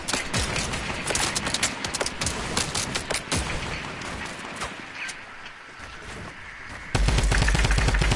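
Gunfire in Fortnite rattles in dense, rapid bursts across most of the stretch, loud and close, thinning briefly before a steady harsher burst near the end.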